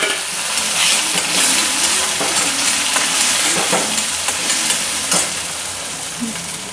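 Tomatoes hit a pan of onions fried until pink, for a fried cauliflower dish, setting off a loud, steady sizzle close by with scattered stirring scrapes and clicks running throughout.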